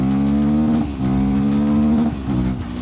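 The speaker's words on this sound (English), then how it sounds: "I'm bouncing rev limiter because it's just coming so much quicker" Motorcycle engine held at the rev limiter, a loud steady high-revving drone broken by rhythmic cuts as the limiter bounces it, about four pulses in under three seconds, close and without speech.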